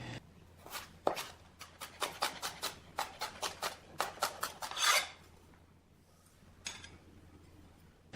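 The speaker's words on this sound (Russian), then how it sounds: "Мелко нарежьте сладкие перчики и один острый по вкусу." A knife chopping sweet peppers on a cutting board, a run of sharp, crisp strokes at a quick regular rhythm, close and clear, pausing midway and then resuming with a couple of final cuts.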